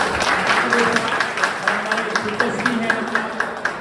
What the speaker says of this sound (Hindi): तो जोरदार तालियां डॉक्टर साहब के लिए।